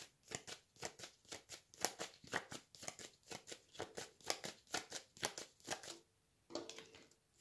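Tarot cards shuffled and laid down one after another in a quick, crisp run of papery flicks and slaps, close and loud with no talk, pausing briefly before a final card lands.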